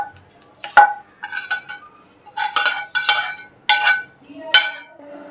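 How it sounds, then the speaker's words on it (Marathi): Roasted masala paste scraped from a pan onto a steel plate for Malvani-style bhogichi bhaji: a run of clinks and scraping knocks, several sharp metallic strikes spaced irregularly, close and fairly loud with no talk. "मी हे काढून घेते ताटात"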